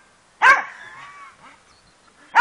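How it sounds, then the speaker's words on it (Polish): A Polish Lowland Sheepdog barks on command, with two sharp, close barks about two seconds apart and a faint whine between them. "A Sasza siedzi akurat. Daj głos."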